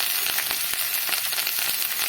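Tender moringa leaves with salt and turmeric fry in a pan, giving a close, continuous sizzle with quick stirring scrapes and crackles throughout.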